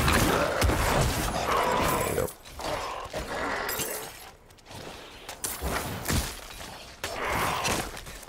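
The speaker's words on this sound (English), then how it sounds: "I'm starting to really dig this corpse explosion." A corpse explosion skill in Diablo IV sets off bursts of shattering, crunching blasts in quick succession, with several loud surges separated by short drops, and no voices heard.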